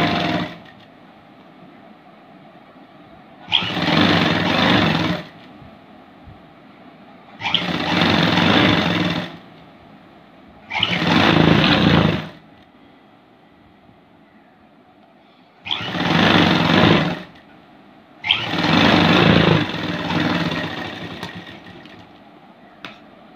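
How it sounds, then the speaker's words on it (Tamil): Sewing machine stitching a seam on a blouse: five loud bursts of rapid running, each two to three seconds long, separated by quiet pauses, with no talking. "இப்ப திரும்ப ஒரு தையல் அது மேலேயே போட்டுறோம்."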